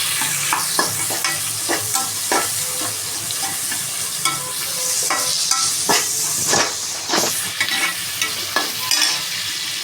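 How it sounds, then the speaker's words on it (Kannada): Sliced onion and green chili sizzle in hot oil in a pan while being stirred, a steady bright hiss broken by frequent scraping stir strokes, close and loud, no voices. "ಈರುಳ್ಳಿನ ಚೆನ್ನಾಗಿ ಹುರ್ಕೋಬೇಕು ಇವಾಗ. ನೋಡಿ ಈ ಥರ ಚೆನ್ನಾಗಿ ಫ್ರೈ ಮಾಡಬೇಕು"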